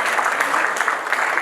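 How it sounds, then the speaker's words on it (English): Steady applause from a business association audience, dense and continuous clapping filling the room for a moment, fairly loud and without speech over it. "please give a big round of applause to Mario"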